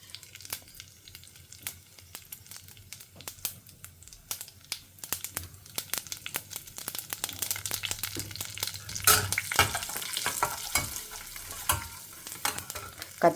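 Chana dal and urad dal frying in groundnut oil, with a crackling sizzle and frequent stirring scrapes that grow busier and louder toward the end, heard up close without talk.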